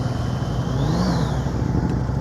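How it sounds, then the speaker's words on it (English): Motorcycle engine idling at low throttle during slow-speed riding practice, a steady low rumble with a faint rising whine partway through, no voices. "he knows the sound of his engine"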